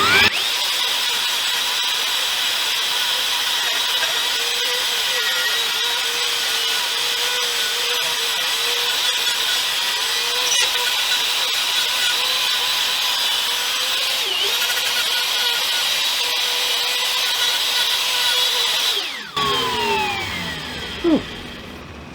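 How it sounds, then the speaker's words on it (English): A power router cuts a cavity into a wooden guitar body with a loud, continuous high whine. Near the end it spins down and changes pitch. "I'm just routing like a little, as close as I can so I can make a perfect ridge for my bearing to ride on"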